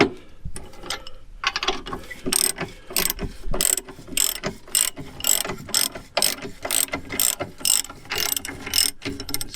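Rapid ratchet clicks in quick bursts as a socket wrench works U-bolt nuts loose on a travel trailer's leaf spring axle hanger, close and clear with no talking.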